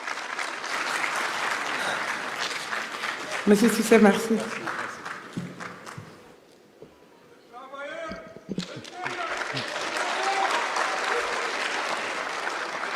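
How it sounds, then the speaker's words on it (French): Audience applause at a Senegalese diaspora ceremony, steady crowd clapping that dips into a brief lull while someone speaks over a microphone, then swells again, with some thuds and bumps mixed in. "Applaudissez encore une fois."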